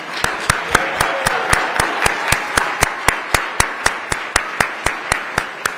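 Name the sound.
applause for Assistant Attorney General Kristen Clarke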